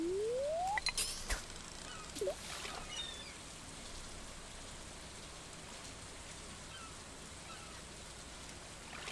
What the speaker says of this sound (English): let's do some ocean fishing in the rain